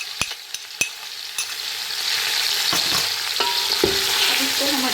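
Mutton chops for a karahi fry with ginger-garlic paste. A few sharp spoon scrapes and clicks come first, then a loud, continuous sizzle builds and carries on with more stirring knocks near the end.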